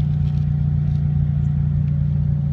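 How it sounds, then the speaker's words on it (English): Scion xB car fitted with an aftermarket DC exhaust, its engine running with a steady, loud low rumble close by, a sustained drone with little change in pitch across the stretch. "Installed a DC exhaust."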